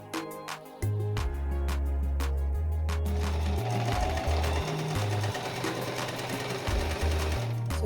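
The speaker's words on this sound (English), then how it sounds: "So now I'm going to the machine to sew" A sewing machine stitches a fabric face mask, its motor running in short loud bursts at first, then settling into a continuous fast rhythmic whir close by.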